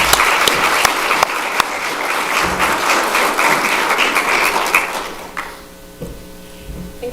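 A Rotary Club audience applauds loudly and steadily for several seconds, then the clapping thins out and fades near the end.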